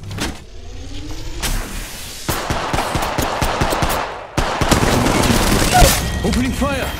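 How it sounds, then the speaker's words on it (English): Rapid gunfire in the video game Apex Legends, dense bursts of loud automatic shots mixed with game effects and music, with a voice speaking over parts of it. "Opening fire!"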